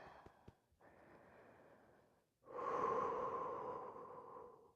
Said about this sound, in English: Remember to breathe.